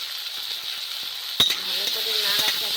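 Bitter eggplant frying with salt and turmeric in a pan, a steady hiss of sizzling oil with light stirring scrapes and one sharp utensil clink partway through.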